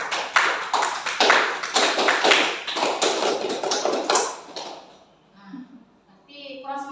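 A seated group at a teachers' dissemination session performs the rhythmic Indonesian scout clap (tepuk pramuka), with loud, fast, patterned bursts of hand claps for several seconds before it stops and a voice speaks.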